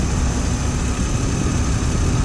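A 2009 Mercedes-Benz SLK 280 with its V6 engine idles nearby, an even, continuous low hum with no revving.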